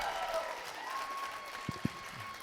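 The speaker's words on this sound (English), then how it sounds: "get ready to clap, Mike Grover. Clap it, son." Audience applause welcoming speaker Mike Grover at the Sunstone Symposium, a steady broad wash of clapping with a couple of sharper claps standing out near the end.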